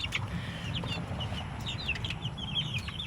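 Rhode Island Red chickens cluck and chirp close by in a muddy farmyard pen. The short, busy calls overlap steadily above a low background rumble.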